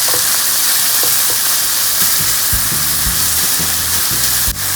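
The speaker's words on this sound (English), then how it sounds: "so I'm gonna just fry this." Leftover pepper dolma mixture frying in a pan, a loud, steady sizzle and hiss with scraping stirs and occasional clicks near the end, no voices.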